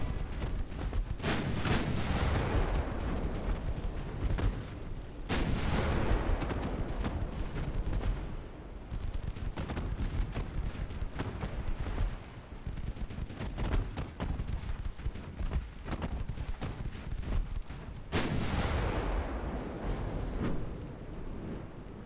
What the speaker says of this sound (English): when those 9-inch guns hit, it's death